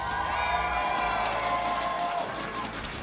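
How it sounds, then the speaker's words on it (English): Live crowd at a Blizzard Arena esports event, a dense steady roar of cheering and shouting voices filling the hall, loud and sustained throughout with scattered whoops and indistinct talk mixed in. "That sounds like a crowd of people who are ready to get these matches going"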